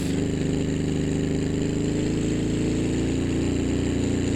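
A small Autobello Piccolina car engine in a video game runs continuously with a rough, uneven rumble, steady and fairly loud, with no voices.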